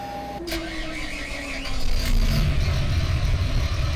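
A tractor engine in Farming Simulator 2015 turns over after a few faint clicks, then settles into a loud, steady rumbling idle that holds to the end.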